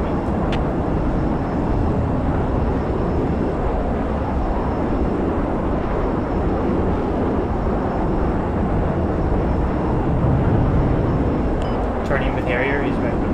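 A Harrier jet in Project Reality roars past at close range, a loud, steady engine drone that holds throughout, with brief clicks and a short burst near the end.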